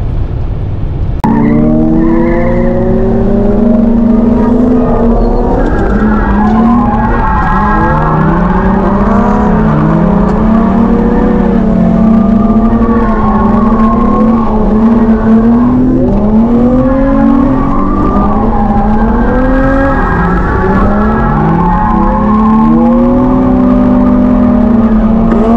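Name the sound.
car skidding around a skid pan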